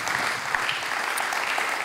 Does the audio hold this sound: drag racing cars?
no